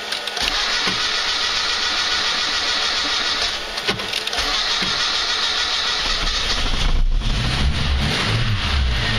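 A car with a second-generation LPG gas system cranked on the third attempt in winter cold, a loud continuous churning of the starter and engine close by, shifting into a rougher, deeper run near the end.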